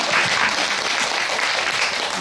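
Audience applause at a Korean film talk event in a CGV cinema library in Myeongdong, a dense, continuous wash of clapping from a seated crowd, steady and fairly loud throughout.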